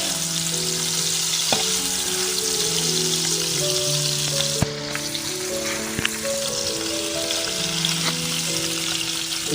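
Chilli, turmeric and coriander powder spice mix for Goan prawn chops frying in a pan, a steady close sizzle with occasional spoon scrapes and clicks, no talking.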